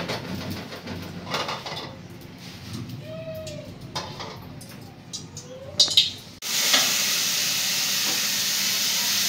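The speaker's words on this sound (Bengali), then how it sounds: "এখন আমি যে ডিমটা ভাজছি" Egg frying in oil in a pot starts abruptly partway through as a loud, steady hissing sizzle, after a quieter opening with a few faint bird-like coos and light clatter.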